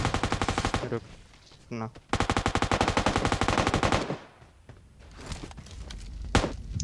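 Rapid machine gun bursts in PUBG Mobile, two long loud rattling volleys separated by a brief pause, followed by quieter scattered shots and thuds as a player speaks briefly.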